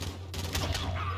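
Rapid gunfire in the video game Call of Duty Modern Warfare, a quick string of shots over a constant low hum, fairly faint and brief with no voices.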